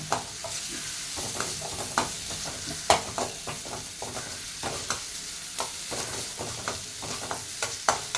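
Spinach-style greens sauté in a pan until golden, a steady sizzle punctuated by frequent sharp scrapes and taps of a spatula stirring at an irregular pace, close-up with no voices.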